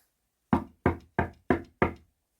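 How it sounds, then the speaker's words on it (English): A storybook sound effect of knocking at a door: five evenly spaced, firm raps, close and clear, alone with no talk around them. "There was a knock at the door."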